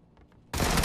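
Gunfire in the battle royale video game PUBG: after a quiet half-second with faint background sounds, a sudden loud burst of shots erupts and holds as a dense, continuous volley to the end.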